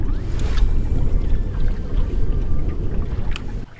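Canoe paddling on a lake, with steady low water wash and gentle paddle strokes heard close by over faint wind, no talking.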